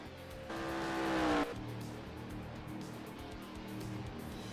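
Race cars on the oval at Phoenix Raceway in the NASCAR Racing 2003 video game, with a loud rising engine whine and tire squeal that cut off abruptly, then a steady engine drone continuing underneath.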